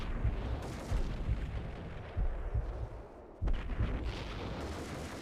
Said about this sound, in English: Spamming grenades.